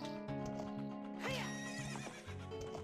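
Epona, the horse in the video game Zelda: Ocarina of Time, gives a sharp, clear whinny midway through, layered over game music and soft clip-clop hoofbeats.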